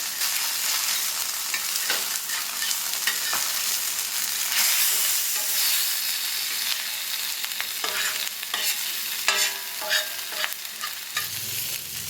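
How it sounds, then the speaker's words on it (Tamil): Fish fries in hot oil in a pan, a continuous bright crackling sizzle with occasional pops and stirring clatter, close and steady, with no voices. "இப்போ எண்ணெய் நல்லா சூடாகிருக்கு. இதில் நம்மளோட ஃபிஷ்ஷை வச்சிடலாம்."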